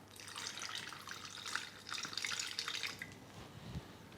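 Water poured into a pan with caster sugar for a glaze on Roman cream buns, a short, close, gentle trickling stream followed by a small clunk.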